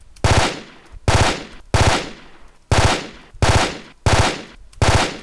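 Designed machine gun effect with heavy punch in a DICE game style: seven separate short bursts of rapid automatic fire, each with a sharp attack and a decaying tail, loud and close, with nobody speaking.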